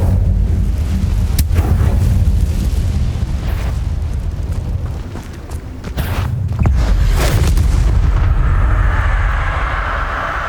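A fire spell cast in the Hogwarts Legacy game on PS5 roars as a loud, sustained rumbling burst with crackling bursts, dipping briefly near the middle before swelling again and fading to a hiss at the end.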